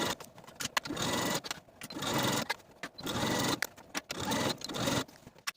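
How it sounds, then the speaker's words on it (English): A home sewing machine stitches a 5/8 inch waistband seam on a pair of pants, running in about five steady bursts with brief pauses between them, close and fairly quiet. "I'm going to take it to my sewing machine and sew all the way around with a 5/8 inch seam allowance"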